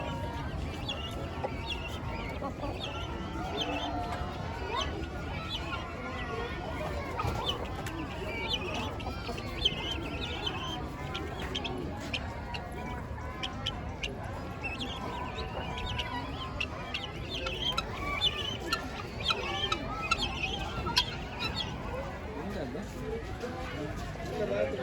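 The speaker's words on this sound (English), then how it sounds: "These are the common domestic hen we raise back home for eggs and for meat." Domestic hens at a zoo farm enclosure cluck and call repeatedly at a low, steady level under a continuous murmur of people talking nearby.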